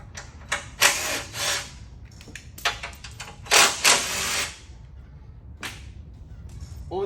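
Bolts on a vehicle's bumper mount being removed with a 13 mm tool, with several bursts of ratcheting, clicking, and rattling in quick succession, close and moderately loud, then quieter metallic ticks.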